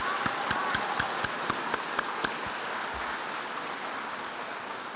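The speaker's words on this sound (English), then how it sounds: "If we can get a round of applause for them." Audience at an award night gives a steady round of applause, a dense even patter throughout with a few sharper individual claps standing out near the start.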